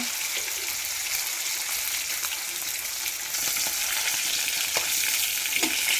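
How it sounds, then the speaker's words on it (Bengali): Fish fries in a pan with a steady bright sizzle, close up, with scattered spits and stirring scrapes and a slight rise in intensity midway; nobody speaks. "মাছটা ভাজা হয়ে গেলে আবার আলুটা ভেজে নেব।"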